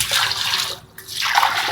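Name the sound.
water being poured into a pot for biryani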